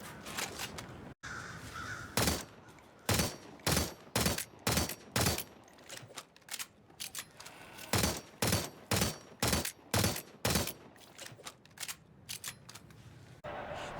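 Heavy pistol fire in the video game Splitgate 2 sounds as a long series of sharp, evenly spaced shots in two bursts, loud and punchy, with a faint voice in the background.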